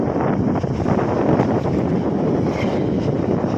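Strong wind buffets the microphone beside a river near a bridge, a constant loud low roar with no pauses.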